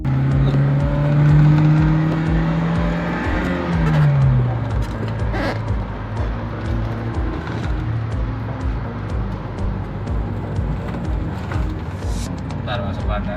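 A 2010 Toyota Innova fitted with a Blackcore upgrade pulls hard under acceleration, its engine note rising and then settling into a steady drone with road noise, loud and close from inside the cabin.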